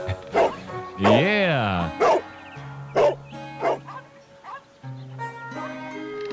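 A dog in the Sherlock Holmes: The Devil's Daughter video game gives several short barks and a drawn-out whining yelp over soft background music, with a brief exclamation from a voice.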